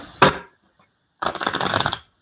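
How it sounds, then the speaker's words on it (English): Tarot cards snap in one quick burst, then after a short pause riffle in a dense, crisp flutter for about a second. Close and clear, with no talking. "let's shuffle the cards and let's see what's coming up love-wise for you"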